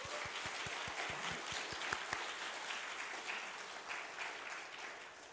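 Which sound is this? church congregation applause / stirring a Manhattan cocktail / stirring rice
church congregation applause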